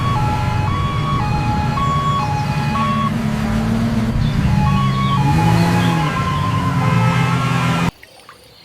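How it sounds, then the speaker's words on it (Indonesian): A toy ambulance wails a two-tone electronic siren, alternating pitch steadily and loud up close, with a warbling tone rising underneath before it cuts off abruptly near the end. "Wadidaw, mobil ambulan."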